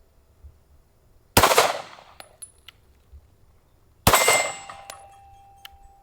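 Two loud rifle shots from a 6mm ARC rifle at a long-range shooting session, each a sharp crack with a ringing decay, a few seconds apart, followed by faint metallic clicks of the action and distant impact pings.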